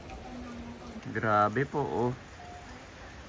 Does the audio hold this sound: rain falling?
yes